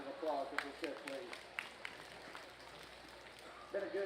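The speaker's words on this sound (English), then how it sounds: "Let's give all 4 of your class winners over here a round of applause if we could, please." Scattered clapping rings out for class winners at a junior breeding gilt show, a small crowd applauding in uneven bursts, with someone speaking over the start and end.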